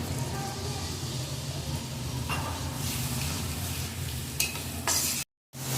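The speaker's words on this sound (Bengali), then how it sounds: "সামান্য জল দিয়ে মশলাটা খুব ভালো করে কষাবো" Spice paste of cumin, turmeric and chilli powder frying with a splash of water, giving a steady close sizzle with occasional stirring scrapes, cut by a brief silent gap near the end.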